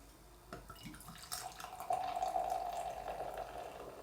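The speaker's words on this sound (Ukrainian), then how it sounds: "Наливаю я так спеціально, щоб була піна гарна така от густа" BrewDog beer pours into a glass, a bubbling, rising fill that grows steadier and louder after a few faint splashes, with no talking.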